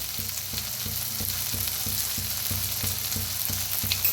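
Tomatoes, onion, spring onion and curry leaves with turmeric and red chilli powder roast in a pan, a steady close sizzle broken by a regular rhythm of spatula scrapes about every half second, with no talking.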